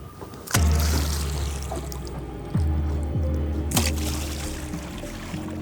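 Several heavy splashes of water, a hand slapping a river surface to mimic a crocodile, with low booming thuds at irregular intervals and no talking.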